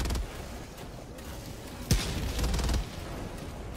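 Rockets fire and explode in Helldivers 2 during a battle on Fori Prime, with a sharp blast near the middle followed by a rolling burst of detonations over a constant rumbling battle bed.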